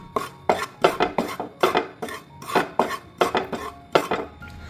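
A spoon repeatedly scrapes and stirs dry chillies roasting in a metal pan, about a dozen brisk rhythmic strokes, close up with no talking.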